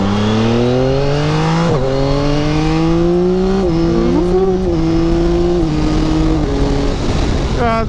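Motorcycle engine revving hard while being ridden, loud and close, its pitch climbing steadily through several gear shifts with brief dips between them, ending in a rising rev.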